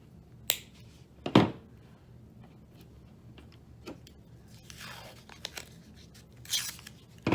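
Wire cutters snipping a red-and-black wire off a Ford 5.0 EFI wiring harness, a few sharp isolated clicks and snips spread over several seconds against a quiet background, with faint rustling of wires between them.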